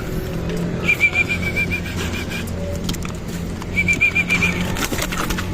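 Young pigeons coo in two short bursts of rapid, chirpy notes, with steady outdoor background noise throughout.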